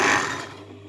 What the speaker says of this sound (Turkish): şimdi overlock'umuzu çektik